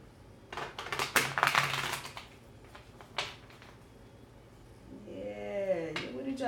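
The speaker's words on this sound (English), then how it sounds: "2 more shuffles." Tarot cards being shuffled by hand, a series of dense riffling and slapping bursts with softer shuffles after a pause, close and fairly loud.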